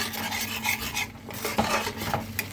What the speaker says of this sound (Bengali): এটাকে ভালো করে কষিয়ে নিতে হবে যতক্ষণ অয়েল রিলিজ না হচ্ছে ততক্ষণ কষাতে হবে